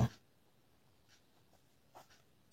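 A pen writing on paper while a Class 8 math problem is worked out, heard as faint, sparse scratching strokes after a brief bump at the start, quiet and without talk.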